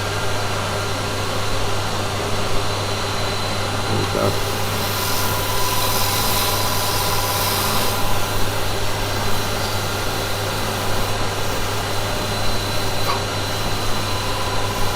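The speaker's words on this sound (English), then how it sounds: "just put my hoover on" A hoover runs continuously in a woodturning workshop, a steady droning whine with a constant hum underneath, close and loud throughout, with a brief spoken remark near the start.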